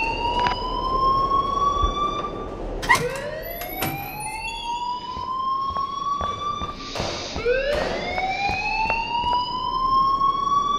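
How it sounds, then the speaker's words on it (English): A rising and falling electronic siren-like alarm sounds loudly and continuously at a school in the video game Life is Strange, its sweeping tone repeating over a steady background. "please turn off that alarm since that's your job"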